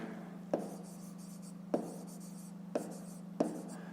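Digits written by hand during a 5th-grade maths exercise, a few sharp scratchy strokes spaced apart over a steady low hum, close and fairly quiet with no talking.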